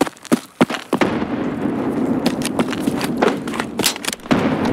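Frag grenade blast in an online tactical shooter match, with a handful of sharp thuds and bangs at close range over constant game background noise, no voices.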